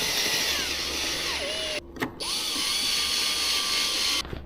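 Small screws driven into the mirror cap and housing of a VW Polo 9N, giving soft ratcheting clicks and a thin whine against steady background hiss, with a brief pause partway through.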